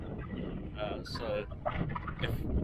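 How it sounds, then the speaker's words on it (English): Wind buffets a microphone with low rumbling gusts while someone talks over it. "Sorry it's really windy."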